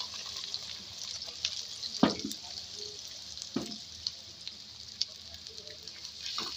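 Onion added to hot oil while making a bhindi dish, a steady high hiss of frying with a few sharp clattering knocks, close but fairly quiet, with no clear talk.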